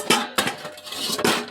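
Dishes and metal utensils set into a drying rack in a home kitchen, a few sharp close clanks and clinks in quick irregular succession, no talking.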